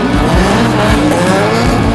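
Drift cars roar at the North vs South Drift Challenge at the Waimate 50 Motorsport Festival, engines loud and near with tires squealing continuously through a dense, sustained wall of noise.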